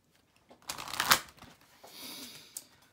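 Guidance oracle cards by Doreen Virtue are shuffled up close, one quick riffle rising to a crisp flutter, then softer sliding and a final tap.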